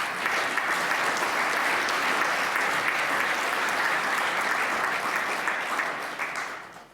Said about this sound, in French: je demanderai que vous puissiez les applaudir aussi bien fort